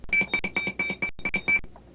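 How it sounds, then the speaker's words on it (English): Airbus A320 cabin evacuation alarm sounding in a fast series of sharp, loud electronic beeps in an uneven rhythm, with one brief gap before it stops. "The alarm sounds, and evacuation lights illuminate on both panels, in the cockpit, and on the call system overhead."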